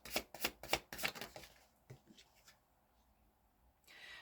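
Oracle cards are shuffled and drawn from a deck in a burst of close papery riffles and flicks, then a few softer slides and taps before fading to near quiet.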